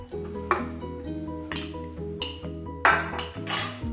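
Metal utensils clink and scrape against a bowl while sugar is mixed into grated coconut for Kerala vattayappam batter, with repeated sharp ringing taps at an uneven rhythm, close and clear with no talk.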